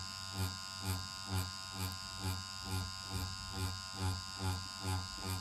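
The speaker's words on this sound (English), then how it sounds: "It's just the sound of the machine." Permanent makeup powder brow machine running without pigment in an ombre brow session, a steady close electric buzz with a soft rhythmic pulsing throughout.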